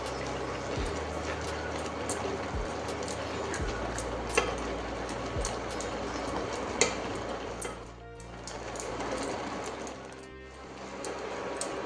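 Carrot halwa with nuts and raisins cooking in a pan, with soft scraping and stirring clicks over a steady low sizzle, close and continuous without talk.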